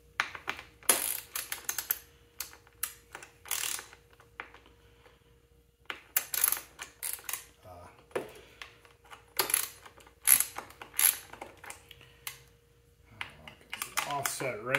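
Metal wrench clicks and scrapes while a regulator is unbolted from a 1975 Can-Am 250 TNT motorcycle, coming in short irregular bursts of ratcheting, clinking contact with quiet gaps between them.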